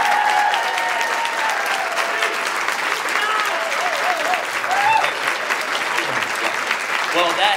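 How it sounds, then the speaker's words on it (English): Enthusiastic applause from a crowd, dense clapping that stays loud throughout, with some cheering and voices mixed in. "Can we give them a round of applause?"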